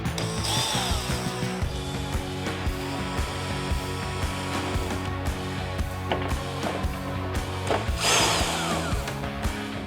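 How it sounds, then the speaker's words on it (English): Power-tool whirring and ratcheting as a T25 driver backs out the windshield bolts on a 2023.5-or-later Harley-Davidson Road Glide fairing, a steady close mechanical buzz with clicks and brief bursts, no talking. "you'll need your T25 to pull the 4 bolts that hold the windshield"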